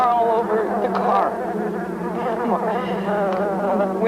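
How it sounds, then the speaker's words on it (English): A swarm of bees crowds around a car, a dense, loud, continuous buzzing that wavers in pitch as many insects fly close by. "The bees are all over the car."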